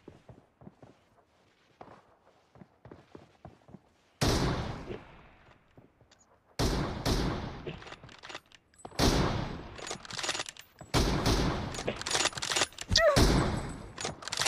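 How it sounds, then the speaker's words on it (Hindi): Loud bursts of automatic gunfire from a BGMI match, several sustained volleys erupting after quieter footstep-like ticks, with rapid repeated shots close and dominant. "बस 3 2 1 मैं फायर कर रहा हूँ"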